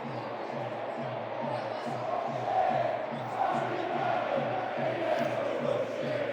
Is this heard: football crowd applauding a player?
yes